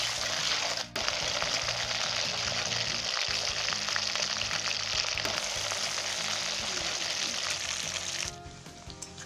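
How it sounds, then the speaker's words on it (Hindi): Cauliflower pieces fry in hot oil in a kadai, giving a steady, moderately loud sizzle with a few clatters, cutting off near the end. "गोभी को हम थोड़ा भून लेंगे"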